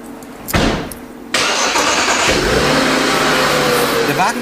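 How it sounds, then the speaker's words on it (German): An old car's engine at a German scrapyard cranks, catches and then keeps running loudly with a steady rev, close by, while someone talks in German over it. "Der Motor muss durchlaufen. Besonders wichtig das Automatikgetriebe."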